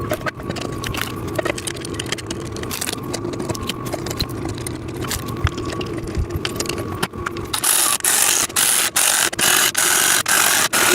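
Bolts are screwed in while a VEVOR sissy squat machine is assembled, giving a close, loud run of ratcheting clicks and metallic turning that grows harsher and more rhythmic in the last few seconds, with no talk.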